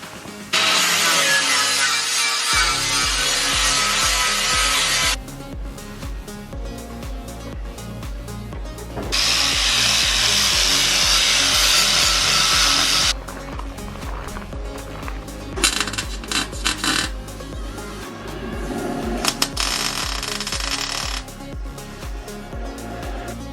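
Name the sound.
grinding steel chassis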